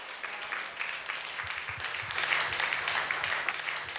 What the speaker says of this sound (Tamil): கைத்தட்டுங்க பார்க்கலாம்.